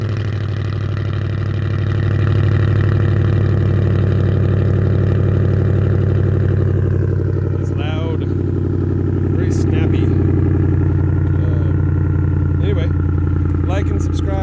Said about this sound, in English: So we're going to go ahead and do a cold start of that and you guys can hear how it sounds.